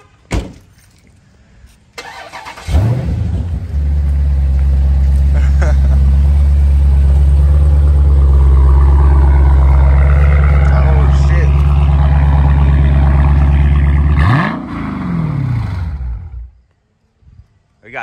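A Dodge Charger Scat Pack's engine fires up loud and close, holding a deep steady roar with a strong low rumble for about twelve seconds before cutting off, with people talking around it.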